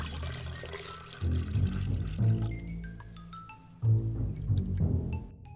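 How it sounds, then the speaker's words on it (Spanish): Cartoon water pours out in a few splashy glugs, with bright bubbly plinks and rising tones between bursts, fairly close and clear with no voices. "¡Vierte el agua rápido!"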